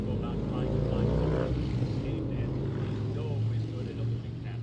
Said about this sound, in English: There's a motorcycle going by